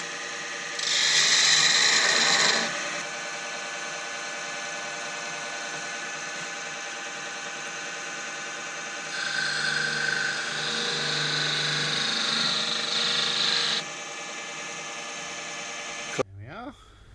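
Wood lathe parting off an olive wood pestle, a steady motor hum with bursts of harsh scraping as the tool cuts in, ending in a brief clunk as the piece comes free.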